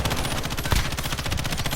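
Rapid automatic gunfire from the video game Call of Duty: Modern Warfare, a dense, fast rattle of shots with one heavier boom midway, loud and continuous with no speech.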